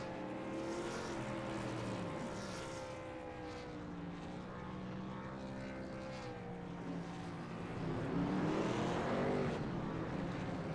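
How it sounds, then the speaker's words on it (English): Race trucks roar through dueling burnouts at Bristol, their engines droning loud and sustained with pitch sweeps as they rev. The noise swells near the end and carries on without pause. "Dueling burnouts with Curtis Ecker"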